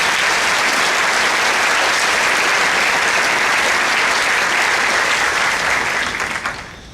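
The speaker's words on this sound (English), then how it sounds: "Let's get a round of applause for them" Loud, sustained applause from a large audience at a county government address, a dense, even roar of clapping that holds steady before fading out in the last second.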